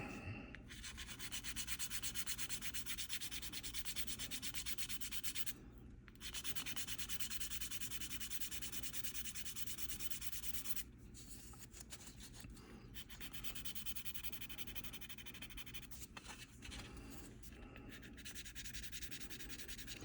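A 600-grit sanding stick rubs steadily against a model car body, giving close, continuous scratchy strokes with a few brief pauses.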